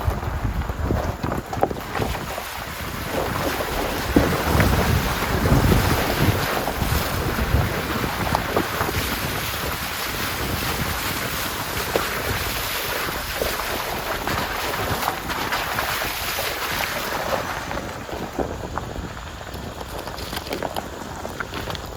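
A vehicle drives through a creek crossing on a dirt road, a continuous loud rush of splashing water and churning noise mixed with heavy wind buffeting the microphone, sustained throughout.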